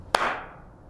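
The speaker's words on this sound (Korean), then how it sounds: "제가 손뼉을 딱 칠게요" A single sharp hand clap rings out once, close and crisp, with a short room decay after it in an otherwise quiet setting.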